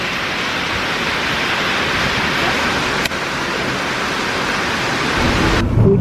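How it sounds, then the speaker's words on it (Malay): Heavy rain in Terengganu, Malaysia, pours down in a dense, steady roar, loud and close throughout, with no voices. "Hujan lebat ni."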